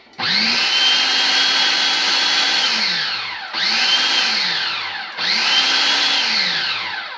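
Dry ingredients for gluten-free graham wafers whirring in a blender, three loud motor bursts: a long run that spins up and winds down, then two shorter pulses, each rising to a steady high whine before slowing, with no talk.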